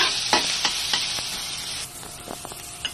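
Ginger sautéing in a pan sizzles steadily at close range, broken by several sharp scrapes and clacks of a utensil stirring it.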